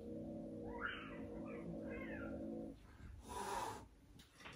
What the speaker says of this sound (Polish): Na dworze, słuchajcie, kot jakiś krzyczy i tutaj Lukrecja się tak wkurzyła